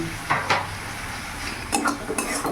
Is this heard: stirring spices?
yes